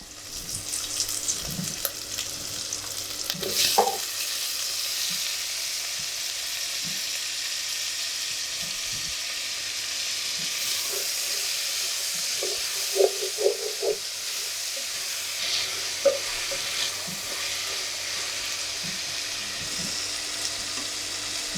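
Tomatoes frying in a pan for dry prawn gongura curry give a steady, close hiss of sizzling oil, with a few soft stirring knocks and clinks scattered through it.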